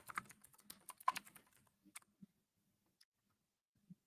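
Keystrokes on a computer keyboard, a dense burst of clicking for about two seconds, then a few isolated taps spaced out, close and fairly quiet.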